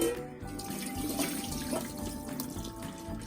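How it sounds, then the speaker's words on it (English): Cooked pasta drained in a strainer, with water pouring and splashing steadily into a sink for a few seconds, close and fairly loud, with no voices. "Transfer the pasta to a strainer to drain the excess water."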